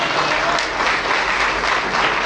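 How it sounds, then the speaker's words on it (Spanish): A congregation at a Spanish-language Christian service breaks into loud, dense, sustained applause that fills the room evenly from start to finish. "Dale un aplauso al Señor"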